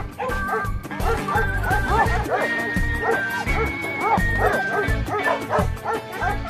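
A dog barks in rapid bursts and yips, then whimpers, loud and close. The barking runs almost without pause throughout, with a little speech mixed in.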